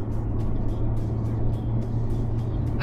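A BMW 540i with a V8 engine accelerating, heard from inside the car as a steady, fairly loud low rumble with road noise, with no clear rise in pitch.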